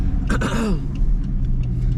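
Loud Dodge Charger engine and exhaust rumbling from inside the car, a quick rev that falls back to a deep steady drone, with a brief voice at the start.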